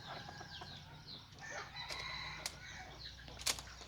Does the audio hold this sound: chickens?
yes